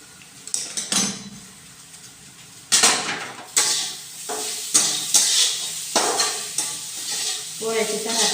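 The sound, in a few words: roasting polis (flatbreads) on a pan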